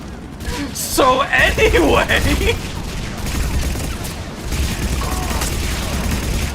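An SMG in Mass Effect 3 rattles off a burst of rapid fire amid loud battle noise and game music, with voices talking over it.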